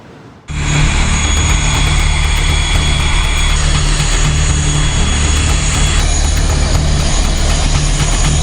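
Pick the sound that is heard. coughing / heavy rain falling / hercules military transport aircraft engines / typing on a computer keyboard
hercules military transport aircraft engines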